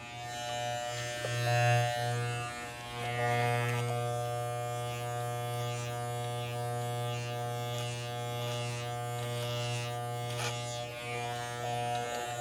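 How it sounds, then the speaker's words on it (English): A close electric razor buzzes steadily while shaving the back of a neck during a home haircut, with a constant humming drone and slight changes in pitch as it moves over the skin. "I gotta shave the back of my neck."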